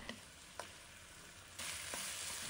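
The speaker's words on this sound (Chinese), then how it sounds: "煎好后，把腌制肉时剩下的汤汁全部倒进锅里，翻炒一下。" Leftover marinade poured into a wok of seared char siu pork and stir-fried, a faint crackle with a few light scrape clicks, then a louder hiss surging up as the liquid hits, close, no talking.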